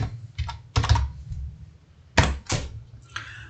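Computer keyboard typing while entering a value in code, a few separate bursts of loud, close key clacks with short pauses between them.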